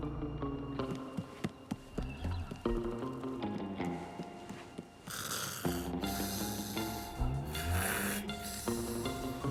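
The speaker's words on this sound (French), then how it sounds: "Et l'autre andouille qui ronfle comme un sac" A cartoon character snores loudly in a French children's animated episode, a few rough, rasping snore breaths over busy background music and effects.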